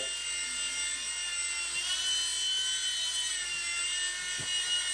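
A micro mSR RC helicopter hovers and flies nearby, its rotor and tiny motor giving a steady high-pitched whine that holds throughout with slight pitch wobbles.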